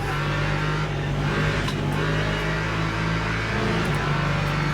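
A Lexus race car engine in Le Mans Ultimate drones loud and steady in the cockpit, holding a sustained tone with a brief shift in pitch as the revs change, alone without talk.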